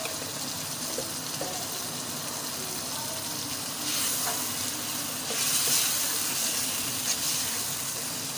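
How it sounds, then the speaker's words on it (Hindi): Masala of red chilli, garam masala and salt frying in ghee for a bhindi gosht curry, a steady sizzle with occasional stirring and brief surges, close and continuous. "घी में फ्राई होने देंगे"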